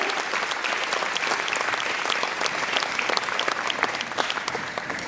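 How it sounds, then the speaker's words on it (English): A crowd applauds blue belts at a karate belt test in a training hall, a continuous dense round of clapping, loud and even throughout with no speech over it. "Let's give our solid blue belts a round of applause."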